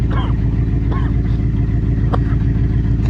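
A truck engine idles with a steady, loud low throb close by, while a voice talks briefly over it.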